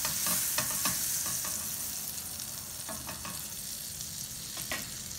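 A dollop of butter melting in a hot pan, a steady close sizzle and fry hiss throughout, with a few soft scraping stirs on top and no voices.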